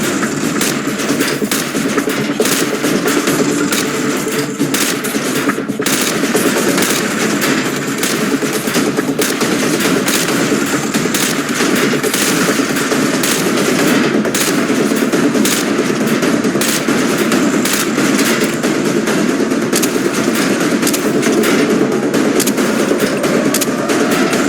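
Rapid rifle fire in Call of Duty 4: Modern Warfare, shooting at pop-up targets on a training range, a dense, loud, continuous stream of shots lasting throughout with no talking.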